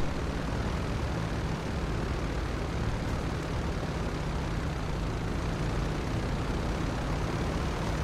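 Cargo plane engine in a flight video game, a steady, dense drone with a low hum running unbroken throughout, loud and constant with no voices.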